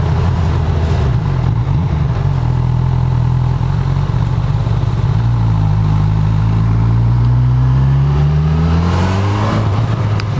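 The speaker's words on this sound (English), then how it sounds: "This bike just wants to pick up speed so quickly." A 2018 Honda CB1000R motorcycle engine roars loud and close throughout, its pitch climbing steadily through rising revs as the bike accelerates, with only a brief drop partway through before pulling hard again.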